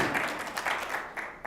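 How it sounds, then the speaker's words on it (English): Applause from a small club audience in a meeting room, a steady patter of clapping that fills the whole moment at moderate volume, fading slightly toward the end. "So round of applause."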